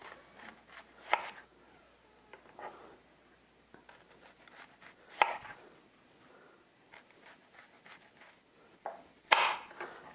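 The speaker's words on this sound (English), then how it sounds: "I've got some red onion that I'm going to slice nice and thin." Red onion sliced thin with a kitchen knife, a few sharp isolated cuts against a board spaced several seconds apart, with quiet handling in between.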